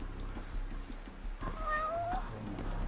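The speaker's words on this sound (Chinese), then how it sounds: "我听到猫在叫的声音。" A cat meows once in the video game Judge Eyes, a clear mid-pitched wavering call over faint background game ambience and soft footsteps.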